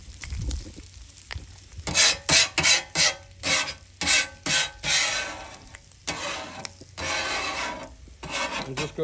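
A metal scraper rasps grease across a Pit Boss two-burner griddle toward the grease trap, in a run of about eight loud, rhythmic strokes followed by a few slower, scattered scrapes, close up.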